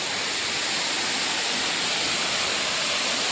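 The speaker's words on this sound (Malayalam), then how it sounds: "ഇതാണ്ടോ വെള്ളച്ചാട്ടം" A monsoon-season waterfall roaring steadily nearby, a broad unbroken rush of falling water with no voices over it.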